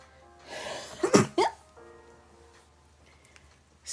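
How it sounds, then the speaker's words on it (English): A single sneeze from a pregnant woman, sharp and close, with a short inhale before the burst and then near silence. "About to sneeze."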